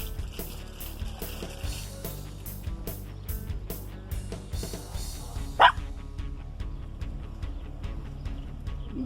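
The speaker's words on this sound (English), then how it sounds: "Dog." A dog barks repeatedly in a farmyard where chickens are being fed, with short yips and barks over a busy, cluttered background and a louder sharp burst near the middle.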